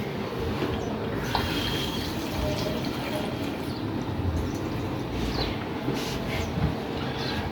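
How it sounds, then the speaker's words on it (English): Tap water running steadily over strawberries being washed, a continuous close rushing wash with faint clinks and handling noises throughout. "And now we're going to wash our strawberries."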